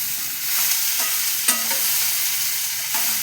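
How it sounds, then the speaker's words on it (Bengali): Pieces of bottle gourd go into a hot pan with panch phoron spices for a shukto and are stirred, giving a loud, steady sizzle broken by a few distinct scraping knocks of the spoon against the pan. "এবার লাউটাকে আমি দিয়ে দিচ্ছি।"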